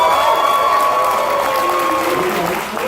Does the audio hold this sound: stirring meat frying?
no